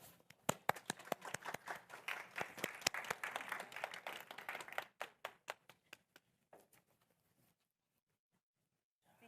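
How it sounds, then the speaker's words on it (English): Workshop audience on school violence prevention applauds to welcome a presenter: dense, quiet clapping from a small group that thins into scattered individual claps and fades out to silence. "and we welcome her with an applause."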